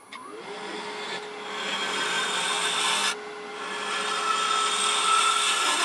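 A wood lathe spins a wooden lamp body with a steady motor whine while a tool scrapes and cleans up the surface, the hiss rising and briefly dropping midway.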